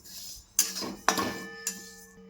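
A utensil stirs sesame seeds roasting in a pan over a low gas flame. Three separate metallic scrapes and clinks ring out against a quiet background.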